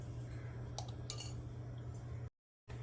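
A spoon mixes appe batter with green peas, onion and salt in a bowl, producing a few soft, quiet clinks and scrapes against a steady low hum before a brief dropout.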